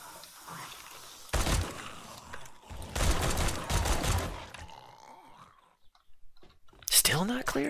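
Gunfire in 7 Days to Die, two loud bursts of rapid shots at close range, the second longer, with a person talking around them.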